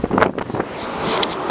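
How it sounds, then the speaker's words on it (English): Strong wind blows at the seaside, a brief rough buffeting roar battering the microphone in uneven gusts. "So windy!"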